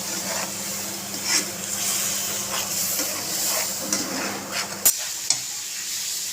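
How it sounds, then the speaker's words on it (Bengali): Salt, turmeric, ginger-cumin paste and dried chilli powder frying in a pan, giving a steady close sizzle with scraping stirs throughout and a few sharper clinks near the end. "দেখো নুন, হলুদ, আদা জিরে বাটা, শুকনো লঙ্কার গুঁড়ো, এটাকে ভালো করে কষিয়ে নিচ্ছি দেখো।"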